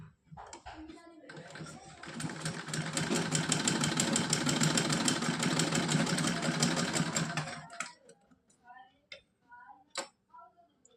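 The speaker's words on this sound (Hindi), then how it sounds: "अब हम एक साइड में यहाँ पे सिलाई लगा लेंगे सीधी" A sewing machine runs one continuous stitching pass along a fabric strip for a few seconds, a fast even mechanical rattle that stops abruptly, followed by a few scattered clicks and taps.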